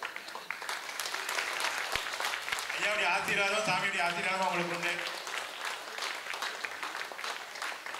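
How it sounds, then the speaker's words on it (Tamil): Audience applause at Dr. H.V. Hande's birthday celebration, a broad wash of clapping that swells and holds for several seconds while someone speaks over it. "எல்லாருமே இங்கே இருக்கிறவங்க எந்திரிச்சு நின்று ஐயாவை வாழ்த்தி நீங்கள் ஒரு விஷ் பண்ணிட்டு ஒரு கைத்தட்டல் கொடுத்தீங்கன்னா"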